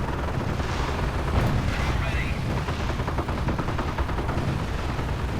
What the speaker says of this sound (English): Rockets in the air.